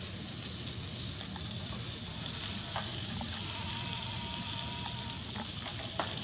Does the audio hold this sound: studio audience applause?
no